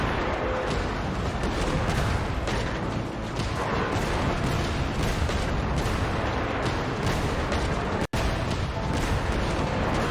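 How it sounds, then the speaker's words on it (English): Cannon fire in Genshin Impact, a dense barrage of booms and blasts layered into a loud continuous rumble of battle, with one brief dropout near the end. "Now that's a nicer cannon."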